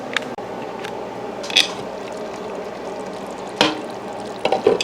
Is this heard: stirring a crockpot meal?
yes